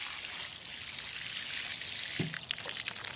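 Water poured onto garden soil around a newly planted container-grown hydrangea, a soft steady trickle and splash close by, with a brief gurgle toward the end.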